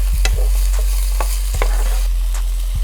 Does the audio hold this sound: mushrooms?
yes